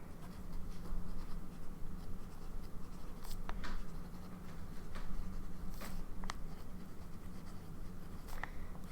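Nib of a Lamy All-Star fountain pen with a fine nib scratching across paper, a quiet, close, continuous scratching with short sharper strokes now and then.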